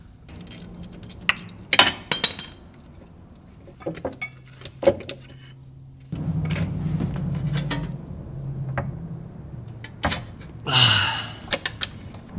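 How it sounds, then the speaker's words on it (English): A wrench works a bolt loose on the rear motor mount of a Ford Focus ST, giving scattered metallic clinks and clanks with quieter shuffling between them. "You're gonna need a wrench on this one."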